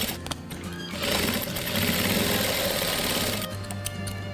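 A sewing machine stitches fabric pieces for a patchwork quilt, with a steady, fairly loud whirring run that fills most of the clip before easing off near the end.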